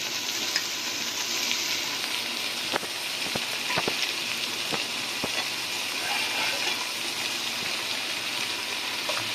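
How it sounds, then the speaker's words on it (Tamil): Tomatoes and coriander sauté in a pan for rava kichadi, a continuous close sizzle and crackle with several sharp spoon clicks and scrapes scattered through. "எல்லாமே கொஞ்சம் நேரம் நல்லா வதங்கட்டும்."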